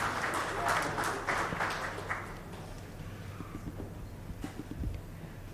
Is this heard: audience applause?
yes